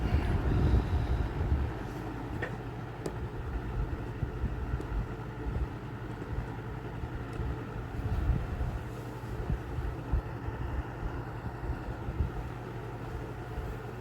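A 1991-1992 Robeson 2393 fan with a warped blade hub runs steadily, giving a continuous low motor hum and whooshing drone with faint rattling, close and unchanging, no voices.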